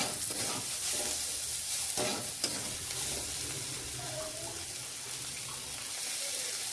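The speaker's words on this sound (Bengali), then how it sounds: "এবার আমি এর মধ্যে দিয়ে দেবো ওই ভেজে রাখা বেগুনটা। এটা আর একবার ভালো করে ভেজে নেবো।" Brinjal frying with neem leaves in a pan, a steady broadband sizzle running throughout with occasional scraping stirs, close and fairly loud, no speech.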